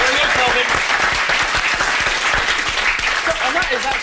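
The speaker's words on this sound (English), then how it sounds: "that is actually the loudest clapping I've heard a contestant do for themselves so far" A game-show contestant claps loudly for themselves in a studio, a dense, steady run of sharp handclaps across the whole stretch, with faint voices underneath.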